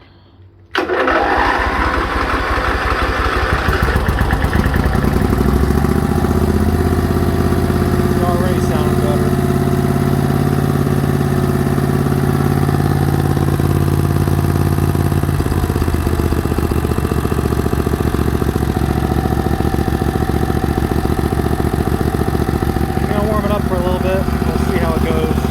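A 20hp Briggs & Stratton Vanguard engine with a repaired carburetor catches after a short start and settles into a loud, steady running idle close by, droning evenly throughout with a slight shift partway.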